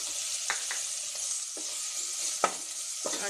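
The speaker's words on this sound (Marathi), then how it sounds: "2 मिनिटं छान असं कंटिन्यू फिरवत राहून मिक्स करायचं आहे सर्व" A spoon stirs amla pickle with melting jaggery in a pan, producing a soft continuous sizzle broken by a few sharp scraping strokes, close and alone.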